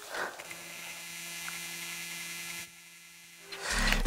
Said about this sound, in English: Now this is a stepper motor. I'm going to turn it on so you can kind of hear what it sounds like.